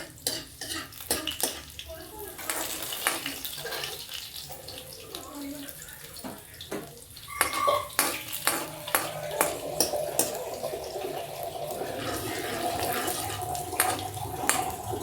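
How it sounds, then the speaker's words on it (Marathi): Water poured into a cooking pot in a home kitchen for millet soup, an intermittent splashing and trickling with clinks of utensils, fairly close, with someone talking over it now and then. "तर आता ह्यात मी ना पाणी ओतते"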